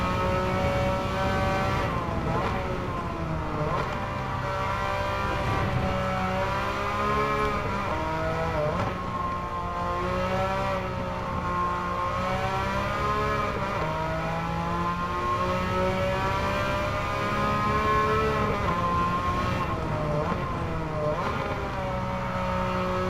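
Porsche 911 engine in the Gran Turismo 7 racing game, a steady loud drone with rising and falling revs as the car brakes, turns in and accelerates out of corners, playing continuously without any speech.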